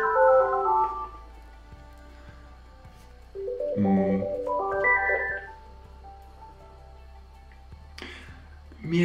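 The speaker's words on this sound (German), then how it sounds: "Telefon." An indoor telephone plays a melodic electronic ringtone in separate bursts with pauses between them, loud and close, with no talking over it.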